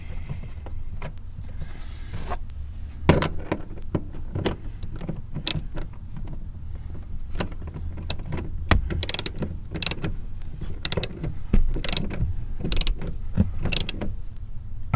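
A seat bolt is tightened on a radio mount base in a Toyota Tundra, with repeated close ratcheting clicks and metallic snaps in irregular bursts over a low rumbling background.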